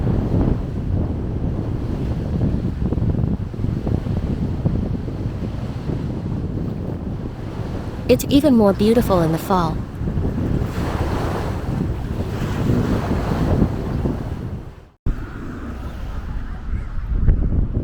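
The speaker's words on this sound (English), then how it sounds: "It's really windy." Strong wind by a lake surrounded by mountains in Mont Tremblant, Quebec, buffets the microphone in a constant low roar throughout, with a person speaking briefly in the middle.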